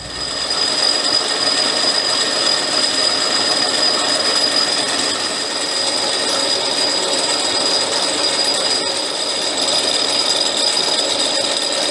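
Metal lathe parting off a spacer for a Buckboard Flyer, a steady loud broadband cutting hiss with a sustained high ringing tone throughout, no talk.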